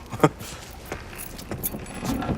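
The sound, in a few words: keys jangling in Mafia III video game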